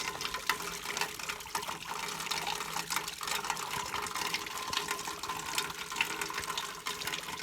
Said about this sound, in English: I just drank unfiltered water